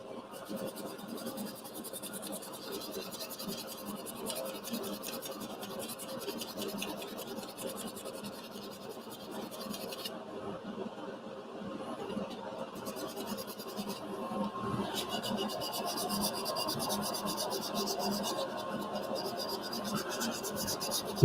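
Sandpaper scratches and rasps steadily against a small wooden scoop spinning on a woodturning lathe, with a faint hum beneath, getting a little louder toward the end.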